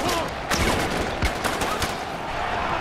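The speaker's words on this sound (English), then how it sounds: "Who the fuck is shooting at me?" Distant, scattered gunfire in a Far Cry 4 battle arena, irregular bursts and single cracks under a dense noisy game backdrop, fairly faint throughout.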